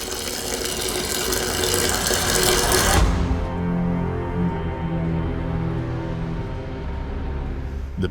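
Water gushes loudly down a basement drain, then the rush abruptly drops to a lower, steadier trickling flow that continues to the end.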